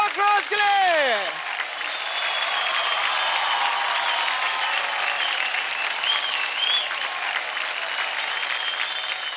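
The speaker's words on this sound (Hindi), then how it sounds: "तो चलिए इसी बात पे जोरदार ताली हो जाए क्रॉकरोज के लिए।" A large studio audience at a televised dance competition breaks into loud, sustained applause that stays dense and even for several seconds after a short musical sting at the start.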